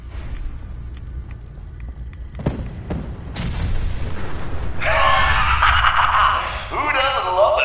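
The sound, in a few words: explosion in the video game Fallout 4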